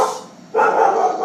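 A pet dog gives a short yip-like bark and then a longer, louder bark, close and clear, with no talking over it.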